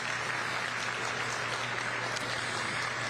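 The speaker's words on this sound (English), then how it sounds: "Let's give the kids a nice round of applause" Audience applause at a county youth fair livestock show, a steady, distant wash of clapping under a low hum across the whole few seconds.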